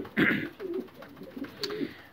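Racing pigeons of a distance-flying breed coo in low, soft repeated phrases from close by, with a few brief higher chirps mixed in over faint background noise.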